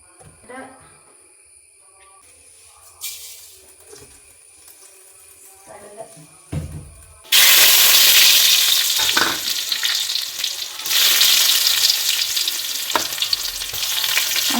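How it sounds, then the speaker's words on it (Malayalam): Dried chillies and onion hit hot oil in a pan and burst into a loud, sustained sizzle and crackle partway through, after a quieter stretch of faint kitchen noises and soft talking. "ഉണക്കമുളക് ഇട്ടു ഉള്ളി മുളക് ഇട്ടു"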